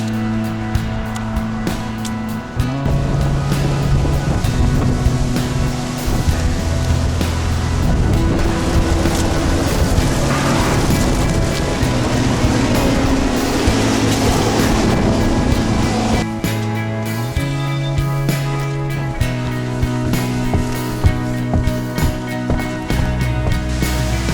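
Extreme wind on a coastal British Columbia day roars continuously and loudly, buffeting the microphone, while low steady engine-like tones sit beneath the gusts and no one speaks.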